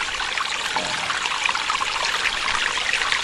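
A stream beside a stone footprint relic on a pilgrimage route in central Thailand, rushing and trickling in a continuous bright, steady wash of water close by.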